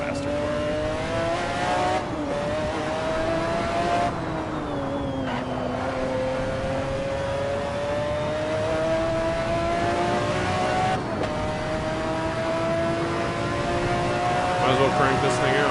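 Racing cars roar through a video game race, engines whining and revving up in long rising sweeps with gear-shift drops, loud and continuous, with a faint hint of tire noise and no talk.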